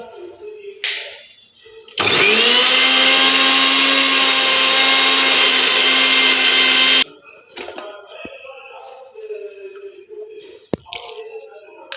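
Mixer grinder grinding neem leaves with a little water, a loud steady whirring roar that starts abruptly, runs about five seconds and cuts off, with quieter handling sounds before and after.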